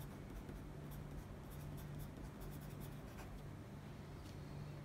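A pen moves across a paper sample sheet while writing a word, a faint, close scratching under a constant low background hum, with a few light strokes standing out.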